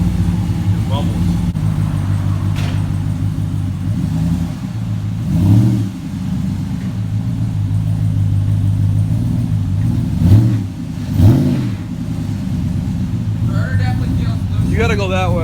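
A Ram truck engine with a new cam idles with a choppy lope and is blipped in several short revs. People talk nearby over the engine.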